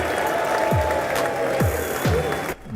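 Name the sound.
audience clapping at State of the Union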